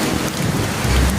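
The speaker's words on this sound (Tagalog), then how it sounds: "Malakas ang ulan." Heavy rain pours down steadily, a dense and loud continuous hiss with a deep rumbling undertone and no break.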